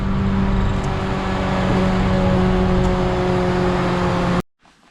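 A Honda CRX's B17 engine roars loud and sustained on a dyno, holding a steady high drone for several seconds before cutting off abruptly into near silence.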